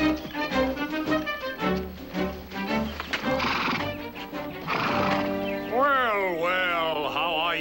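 A horse neighs and whinnies loudly with rising and falling calls, with clip-clopping hooves and voices mixed in, set in a period drama.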